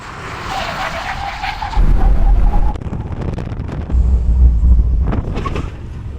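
An Audi RS6 and Audi R8 brake hard from 100 mph on a test strip, with a rushing roar, tyre noise and heavy wind buffeting that swells and fades.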